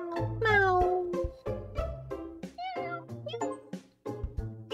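Repeated cat meows from a cat-finding game set in Italy, rising and falling cries arriving one after another over steady background music with a thumping bass line.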